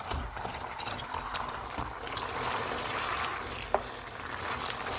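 Fried chicken wings simmer in a thick chilli garlic sauce, giving a steady close bubbling and sizzling hiss with a few soft clicks from stirring.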